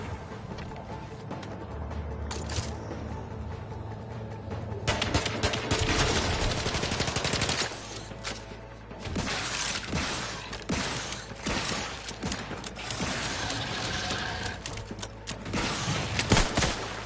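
Sustained bursts of automatic gunfire in Outer Worlds 2, loud and dense with sharp cracks and crashes, surging in waves over a rumbling battle background with no talk.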